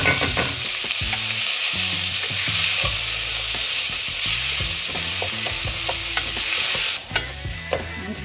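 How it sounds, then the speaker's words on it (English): Mixed vegetables and onions fry in a pan for vegetable pulao, a steady loud sizzle with repeated scraping and clattering stirring strokes throughout, no voice. "Here I will add 1 cup of mixed vegetable."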